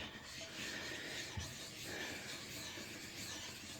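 A kitchen knife or small tool works a Wakasa Asagi Japanese natural sharpening stone to raise a slurry, giving a continuous, quiet, gritty rubbing hiss at close range.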